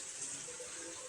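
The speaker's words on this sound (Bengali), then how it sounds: "অল্প একটু জল দেব।" Leftover water from rinsing a spice bowl is poured into a bowl of fried onions, a soft steady trickle, quiet and close, with no voices.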